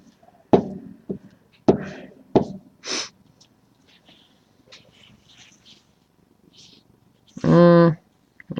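A cat named Roxy indoors gives short snorts, breaths and chirpy noises, ending in a loud, rough purring or growling burst near the end, with quiet rustling between.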